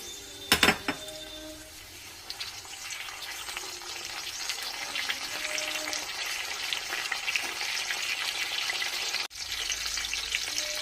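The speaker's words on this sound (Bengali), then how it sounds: "বেশ কিছুক্ষণ ধরে আলু আর পেঁয়াজটা একসঙ্গে ভেজে নিতে হবে" Steady sizzling and crackling of potatoes and onions frying together in a pan, continuous and close, with a brief clatter of a utensil near the start.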